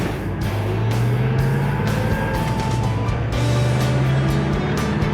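A Mustang GT coupe with a manual gearbox drives along, its engine giving a loud, steady drone with road noise and no talk.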